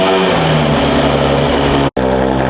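A 1200 HP BMW M4 engine on a dyno holds a loud, steady high-rev drone with dense harmonics, briefly cut off by a sharp gap near the end before the roar resumes.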